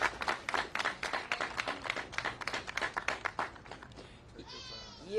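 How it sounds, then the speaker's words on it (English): Applause at a press conference held by Attorney Ben Crump for Shanquella Robinson, a crowd clapping in quick, uneven bursts for about four seconds before dying down. "So I want y'all to give a big round of applause for Shanquella Robinson, the mother of Shanquella Robinson"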